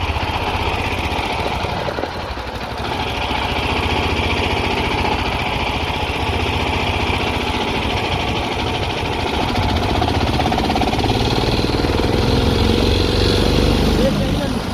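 Dune buggy engine running on a first test ride: a loud, close, buzzing engine drone that holds steady throughout and rises slightly toward the end, with speech heard at moments.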